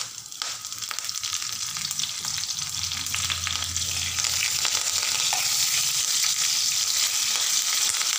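Urad dal, cumin, fenugreek, red chilies, crushed garlic and curry leaves fry in hot oil, giving a steady, close hiss of sizzling with faint stirring underneath, with no talking.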